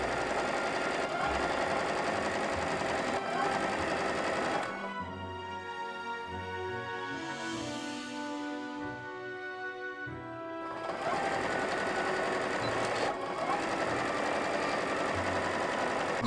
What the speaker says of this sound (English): I am sewing it to the front of the shirt as directed in the instructions